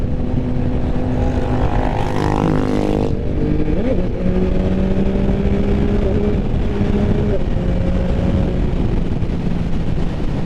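A 2022 Yamaha MT-09 motorcycle pulls in fifth gear at light throttle, a loud close engine drone with rising pitch sweeps and some wind buffeting.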